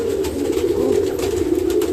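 Pigeons in a breeding loft in cold weather, with nesting pairs, eggs and young birds, keep up a steady layered cooing at close range, continuous and unbroken by speech.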